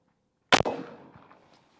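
A single sharp, loud blast from an Umarex Primal 20 gauge airgun shotgun firing a BB load, with a short trailing echo that fades over about a second; no one talks.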